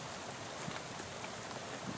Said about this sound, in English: How about this rain, huh?